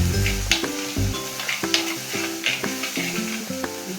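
Food sizzles in a pan and is stirred, giving a crackling fry with repeated scraping strokes. Melodic tones play alongside it throughout, and no one speaks.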